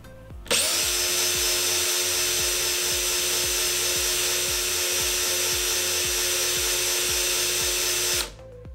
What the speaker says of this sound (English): the drill is starting to run down on batteries